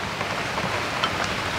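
Steady rain falls in a dense, even hiss over an outdoor setting, with a few faint distinct drips and clicks standing out now and then.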